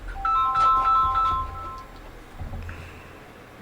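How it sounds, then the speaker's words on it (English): A phone ringtone plays a repeated electronic melody of bright tones in the first half, then fades to a quieter tail. "I totally forgot to silence my phone while I was doing this."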